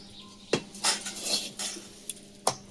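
Metal pot and utensils clatter in a kitchen as a fish curry pot is taken off the stove, a few sharp clinks and knocks spaced out over quiet background.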